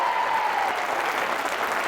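A TV studio audience applauds a singer with dense, steady clapping that fills the room evenly, a brief faint tone fading early under the applause.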